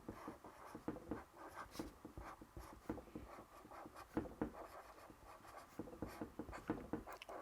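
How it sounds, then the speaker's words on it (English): A pen or pencil writes by hand on paper, a quiet, close scratching in quick irregular strokes and short pauses, continuing steadily with no talking. "I'm going to write"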